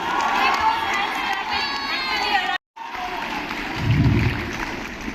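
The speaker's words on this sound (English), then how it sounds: "Please continue the clapping till he is seated." Crowd clapping and cheering at a university lecture event, loud dense applause with shouts and whoops, a brief cut midway, then the noise swells again with raised voices.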